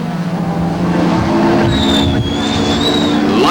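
A BP Nissan touring car races to the finish at Killarney during a 1998 Bankfin touring car round, its engine a loud, steady roar throughout, with a brief tyre-squeal-like whine rising midway.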